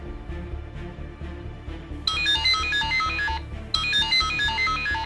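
A mobile phone ringtone plays a bright, repeating electronic melody in two bursts over a low background hum, with no talking during the ring.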